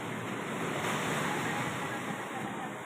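High waves surge steadily against a beach shore in a continuous loud wash of surf, with wind noise blended in and no voices.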